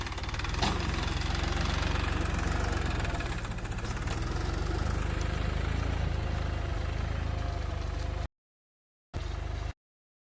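A mini tractor's engine runs steadily and loudly at close range during field cultivation, a continuous mid-low drone with a knocking edge, cutting out abruptly near the end and briefly returning.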